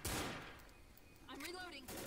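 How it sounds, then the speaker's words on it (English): Gunfire at special infected in the video game Left 4 Dead crackles in a quick, dense burst at the start and trails off, with a voice speaking briefly afterward. "Shooting them special infected."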